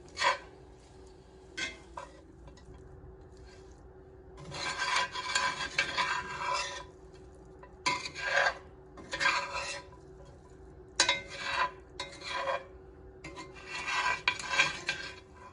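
Chicken roast with coconut pieces being stirred in a pan over low flame, Kerala style, with bursts of rasping, scraping strokes in uneven clusters against a faint steady background, no talking.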